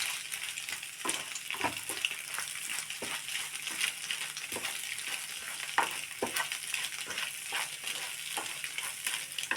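A spoon stirs an okra stir-fry (vendakka thoran) with salt in a pan, a soft sizzle broken by scattered scraping clicks, fairly quiet and close, with no talking.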